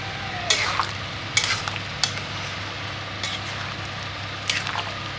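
Potato and paneer curry with kasuri methi being stirred in a pan: soft squishy scrapes and wet sizzling in several separate strokes over a steady low frying hiss, close and moderately loud.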